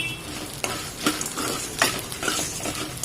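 Dried red chillies and pepper stir-fried in a pan make a crackling sizzle broken by repeated scraping stirs of a spoon, close and fairly loud.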